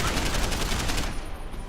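Gunfire in the video game Deus Ex crackles as a rapid, dense string of loud shots packed into under two seconds, a sharp continuous burst that cuts off near the end.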